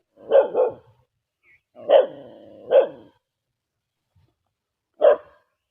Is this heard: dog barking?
yes